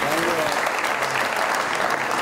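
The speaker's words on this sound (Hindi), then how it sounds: "इनकी तमाम टीम के लिए खसूसी तालियां होनी चाहिए।" Studio audience applause on a Pakistani late-night comedy talk show, a steady, dense clapping throughout the short stretch.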